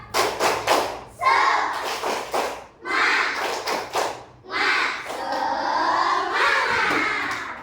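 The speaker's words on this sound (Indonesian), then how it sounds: "Tepuk semangat." A school class performs a rhythmic spirit clap, with sharp bursts of clapping in short patterned groups and children's voices chanting along between and over the claps, close and fairly loud.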